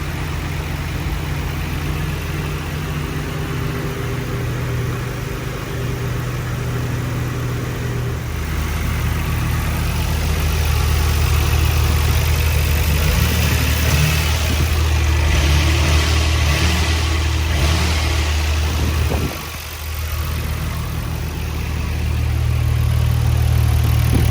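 A Nissan Skyline R34 GT-R engine idles with a deep, rumbling exhaust burble, swelling slightly midway and dipping briefly before settling back into a steady low throb.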